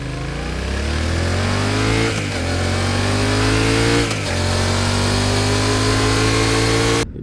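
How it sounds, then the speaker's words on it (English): Yamaha Tenere 700 adventure motorcycle exhaust note, a loud, close, deep engine climbing through gears with two quick shift breaks, steady throaty rise in pitch, then cutting off abruptly at the end. "Now that exhaust note is surely gonna get a lot of attention."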